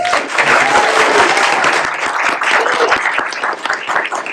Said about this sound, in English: Everybody clap for them.